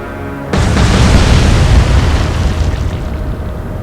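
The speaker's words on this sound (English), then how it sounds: "fire those away. 3 torpedoes should be enough, I believe." Torpedo hits exploding against a warship in the naval strategy game Atlantic Fleet, a sudden very loud boom that breaks in after a quiet start and rumbles on with a long, slowly fading roar.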